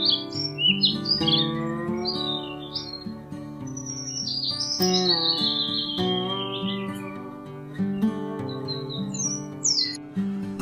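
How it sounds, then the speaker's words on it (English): A bird squawks and chirps in repeated bright, sharp calls, near and clear over steady tonal background music. "This is bird."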